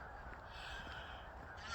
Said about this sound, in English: And lots of squawking geese.